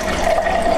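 Water pours steadily into a countertop water machine, a short, close, even rushing flow with a faint hollow ringing tone.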